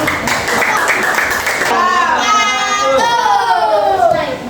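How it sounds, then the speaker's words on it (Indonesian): A classroom of students claps for a presenting group during a lesson, brisk clapping at first that quickly gives way to children's voices and chatter. "kasih tepuk tangan dulu buat kelompok 1 dong"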